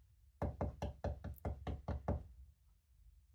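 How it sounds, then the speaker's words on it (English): Eight quick, evenly spaced knocks on a wooden door, crisp and close, followed by a short silence. "Suddenly, Percy heard a tapping sound."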